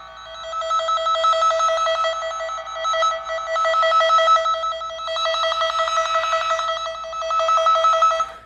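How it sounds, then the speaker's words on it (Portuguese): Cable tone generator signal picked up by a probe touching a cable: a steady, warbling electronic tone that runs for the whole stretch, loud and close, with no talk. "esse aparelho ele gera um sinal, esse sinal ele fica passando por dentro do cabo"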